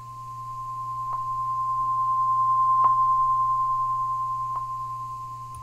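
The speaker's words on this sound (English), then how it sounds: "And then this part right here is dither." A steady pure sine tone at around 1 kHz with dither applied, a faint low hum beneath and a few brief clicks, playing alone without any voices.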